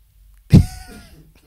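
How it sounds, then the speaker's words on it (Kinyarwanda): A single sharp, close cough bursts out, then trails off into a brief raspy tail, loud against an otherwise quiet background. "gukorora si ikibazo nawe kurakorora ugwaye n'inkorora"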